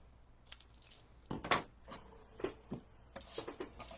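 Scissors snip through flower stems during floral arranging, a few sharp close cuts spaced irregularly with soft handling rustle between them.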